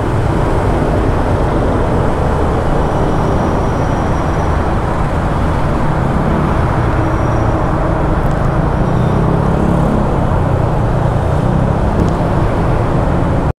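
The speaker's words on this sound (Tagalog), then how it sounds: "Grabe traffic." Heavy stop-and-go road traffic slowed by pipe-laying roadwork, a loud, continuous broadband roar of engines and tyres close by, steady throughout with no breaks.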